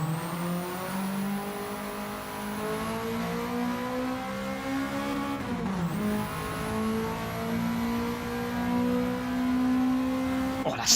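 A Toyota touring car engine heard from inside the cockpit in a sim racing game at the Red Bull Ring, loud and steady, climbing through the revs with gear changes and a brief dip near the middle.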